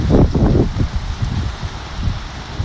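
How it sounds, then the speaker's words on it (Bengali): Heavy rain beats down in strong wind during a storm in Rangpur, a dense, continuous roar of rain and gusting air with wind buffeting the microphone. "অনেক জোরে কিন্তু বৃষ্টি আসা শুরু হয়ে গেল।"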